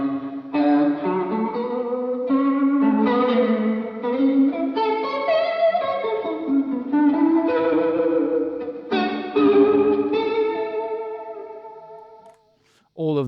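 Source Audio Encounter delay pedal run with lo-fi reverb, processing a steady run of guitar notes that trail into wobbling, chorused repeats, loud and continuous, cutting out briefly near the end.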